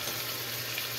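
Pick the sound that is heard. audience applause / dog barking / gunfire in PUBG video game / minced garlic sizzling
minced garlic sizzling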